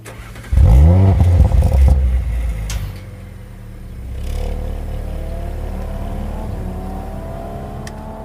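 An Audi RS4's 2.9-litre twin-turbo V6 roars as it revs hard, then drops back to a low rumble with a faint whine rising as it pulls away.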